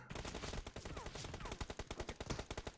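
Rapid automatic gunfire in the mobile battle-royale game PUBG Mobile rattles in dense continuous bursts, loud and close, with a voice faintly underneath.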